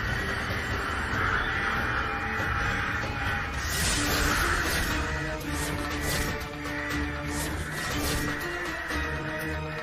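Several crows caw repeatedly and loudly outdoors, a flock raising a noisy chorus after one of them got caught on an electric power line, with harsh overlapping calls running continuously throughout.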